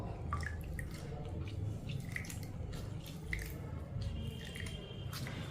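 Half a lemon squeezed by hand into freshly made weight-loss juice, giving soft wet squishing and dripping near the microphone, with repeated small drips and squelches over a steady low background.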